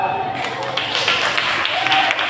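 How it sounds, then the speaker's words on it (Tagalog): A church congregation claps hands together during a worship service, a dense, continuous patter of applause that fills the room, with voices mixed in. "Palapakan natin ang Panginoon."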